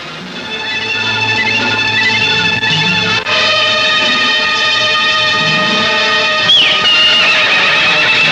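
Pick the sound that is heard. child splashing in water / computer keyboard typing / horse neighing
horse neighing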